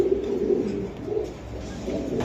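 Pigeons coo softly and repeatedly in a loft, with a male calling a female to a nesting pot; the low, throaty coos are close and steady without talk.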